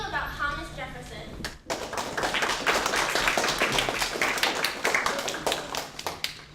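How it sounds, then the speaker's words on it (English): Audience applause after a student presentation introduction, a steady burst of many hands clapping that follows a brief spoken line and fills the room for several seconds before starting to thin. "please give a round of applause for Nick Casentano"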